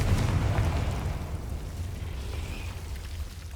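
A Confringo fire spell in Hogwarts Legacy bursts with a deep, rumbling blast at the start that fades into a low, crackling tail, with no talking.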